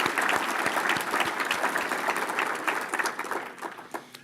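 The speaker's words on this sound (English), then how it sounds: "I think that deserves a round of applause." Audience applause at a school district state-of-the-schools address, many hands clapping steadily before thinning out and tapering off toward the end.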